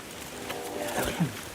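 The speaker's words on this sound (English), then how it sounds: "Oh, that was me blowing my call. Duck, that's your duck call." A hunter blows a duck call outdoors, a brief reedy quacking burst near the end over a low, noisy background.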